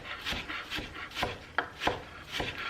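A knife chopping cucumber into small cubes on a board, with about eight quick, fairly even strikes, close and moderately quiet, and no voices.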